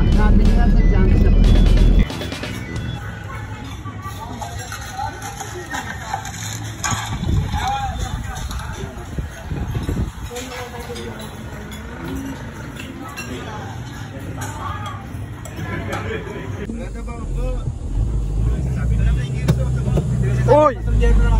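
A boat or vehicle engine runs steadily through an outdoor trip, a continuous low drone under frequent talking and clinking sounds, growing louder toward the end.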